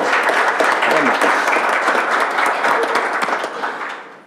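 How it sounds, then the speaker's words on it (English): An audience at a board of education business meeting breaks into a round of applause, dense clapping that holds steady, then thins out and fades over about four seconds. "Let's give her a round of applause."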